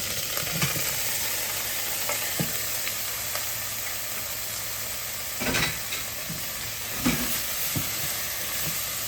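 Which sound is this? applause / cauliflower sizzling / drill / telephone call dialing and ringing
cauliflower sizzling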